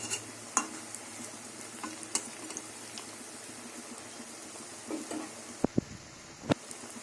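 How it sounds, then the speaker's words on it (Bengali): Taro leaf fritters frying in oil over a low gas flame, giving a steady, faint bubbling sizzle with occasional scrapes and taps from turning them, close by and without talking. "লাল লাল করে ভাজা হয়ে গেছে আর গ্যাসের আগুনটা কমিয়ে দিয়েই ভাজবেন"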